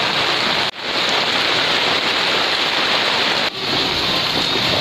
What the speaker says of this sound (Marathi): पाऊस लागला सकाळी सकाळी भरपूर